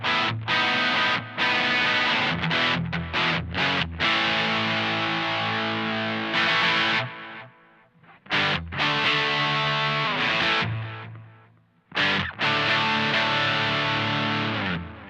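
Electric guitar played through a Mad Professor BlueBird overdrive with delay: loud, sustained distorted chords and choppy strummed bursts, with short pauses where repeats ring out and trail off before playing resumes.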